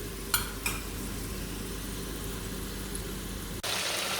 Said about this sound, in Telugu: మన చికెన్ చూడండి ఎలా ఉడుకుతుందో